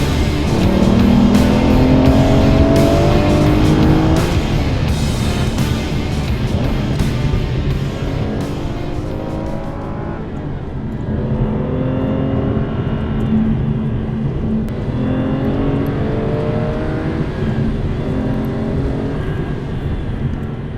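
An Aston Martin DBS drives along a tight, twisty British B road, its engine note rising and falling through gear changes and corners, heard from inside the car with steady road noise throughout.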